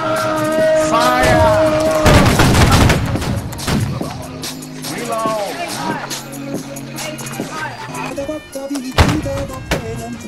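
A ragged musket volley from a line of soldiers in the Holdfast: Nations at War game bursts out as a booming crackle of overlapping shots, surrounded by shouting voices and chatter before and after.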